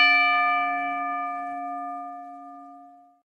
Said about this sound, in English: the opening bell